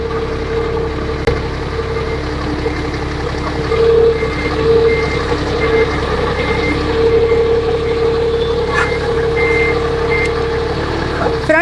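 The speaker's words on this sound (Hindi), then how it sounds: "अभी आगे नहीं जाना है, मैंने जाना है रिवर्स उस ड्रम के पास।" A forklift reverses toward a drum, its warning beeper sounding in a steady repeating pattern over a low idling engine hum, fairly close and loud, with no talk.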